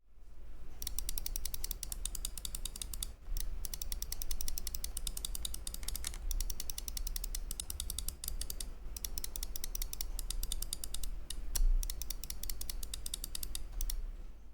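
Optical switches on a Razer Viper Mini gaming mouse click in rapid, continuous succession, crisp and close-up with dense repeated taps and a few brief pauses, no voices.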